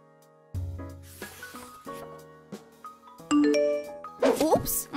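A mobile phone rings with a bright, chiming melodic ringtone, a series of tinkling tones that grows louder toward the end, set against soft background music in a home where someone is sleeping.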